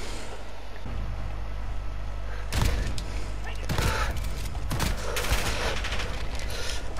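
Automatic AUG rifle gunfire in Call of Duty: Modern Warfare multiplayer, several loud bursts of rapid shots from about the middle onward over continuous game noise, with voices talking.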